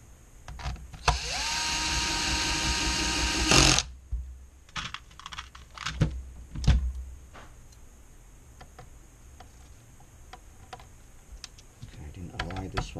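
A powered screwdriver whirs in one steady burst of nearly three seconds, driving screws back in while an LED backlight is installed in an ET1247L-8CWA-1-G display. Quiet clicks and handling noises follow, with a voice speaking briefly.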